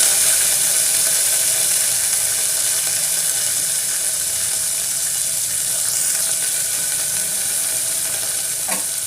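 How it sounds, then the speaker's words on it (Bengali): Chopped tomato sizzling as it hits hot oil with cumin in a pan, a steady broadband fry hiss running throughout with light stirring scrapes, close and even in level. "এর মধ্যে কেটে রাখা যে টমেটোটা এর মধ্যে দিয়ে দিচ্ছি"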